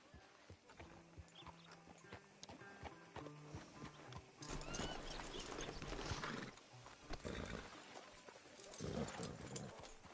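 Horse hooves clip-clop in Red Dead Redemption 2, a quiet steady gait mixed with pigeon coos and birdsong, then a louder burst of movement, with faint speech in the background.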